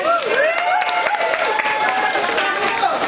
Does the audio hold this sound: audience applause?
yes